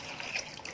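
Chlorine water poured during decontamination of medical instruments, a soft brief trickle of liquid with faint splashy texture, close and quiet.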